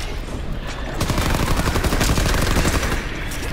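Rapid gunfire rattles in a video game, a quieter patter of shots giving way to a dense, loud stream of automatic fire that carries on for several seconds.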